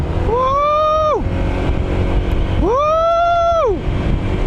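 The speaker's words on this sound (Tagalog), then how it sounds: "first ride with the Honda ADV 160, unang harurot, let's go!" A Honda ADV 160 scooter rides along a highway with a steady engine drone and heavy wind rush, while a rider lets out two long, excited whoops over the noise.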